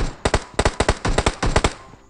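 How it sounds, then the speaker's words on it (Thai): Rapid bursts of gunfire in PUBG Mobile crack out in quick clusters, loud and close, with short pauses between volleys and no talking. "มีคนยิงกันอยู่ข้างหน้าครับผม"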